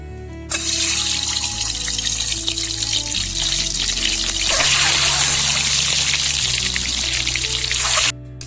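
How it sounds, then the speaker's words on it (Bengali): Turmeric-coated egg pieces frying in hot oil in a wok, a loud, steady, close sizzle that runs unbroken for about eight seconds, with no talking. "কড়াই তেল দিয়ে দিচ্ছি, ডিম কোটা ভেজে নেবো"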